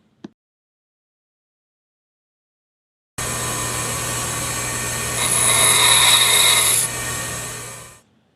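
A metal lathe tool bit being ground on its top face, a steady loud grinding rasp that runs continuously for about five seconds, swelling brighter in the middle, after a brief click and silence.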